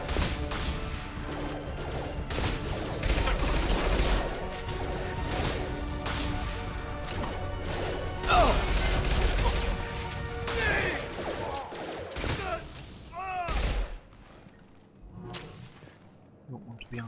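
Assault rifle fire in Mass Effect 2 combat, bursts of crashing shots and impacts amid busy game sound, loud and close, ending in a few scattered hits.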